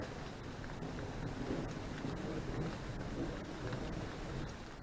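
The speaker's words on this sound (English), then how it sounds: "you hear that? That's thunder." Rain falls steadily during a thunderstorm on a canoe trip in Algonquin, a dense hiss with low rumbling thunder rolling underneath, fairly faint and continuous.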